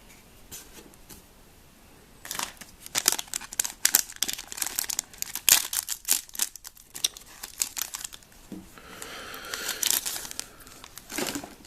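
Foil wrappers of Star Wars Destiny Awakenings booster packs crinkle and tear close up, in busy bursts of crackling and rustling across several seconds, after a quiet start and with no talking.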